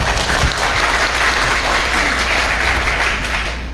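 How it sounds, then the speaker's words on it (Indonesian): Audience applause at a national-insight oration event in Indonesia, a dense steady burst of many hands clapping together, loud and continuous, fading slightly toward the end. "Tepuk tangan dong."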